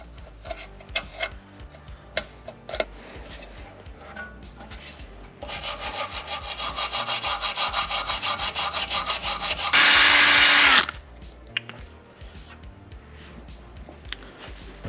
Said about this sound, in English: there's a razor blade, try and get off some of this before I use some type of scoring pad like a steel wool.